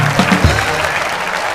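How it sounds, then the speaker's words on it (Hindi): A studio audience at a comedy talk show claps loudly and steadily in a dense, close burst of applause, with a brief voice heard at the start. "आप सबकी जोरदार तालियों के बीच please welcome mister Kartik Aaryan"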